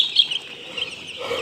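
Chicks chirping at a poultry farm, a faint, continuous high peeping chorus of many birds at a distance, with no talk over it.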